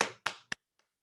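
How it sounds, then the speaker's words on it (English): A hand-clapping demonstration: three crisp, close claps in quick succession, followed by a faint fourth tap as the sequence dies away into silence. "This also could be shown with like maybe showing how to clap your hands"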